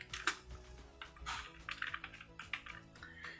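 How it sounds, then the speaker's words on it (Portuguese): Keys clatter on a computer keyboard in quick irregular bursts while someone enters an Excel formula, close and fairly quiet. "Vou abrir aspas de novo e vou digitar sem comissão."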